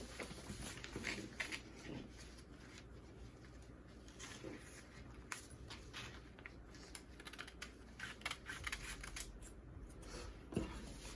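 Scissors snipping through dress fabric to cut out a marked dot, giving quiet, close, irregular clicks and crisp cuts throughout with no talking.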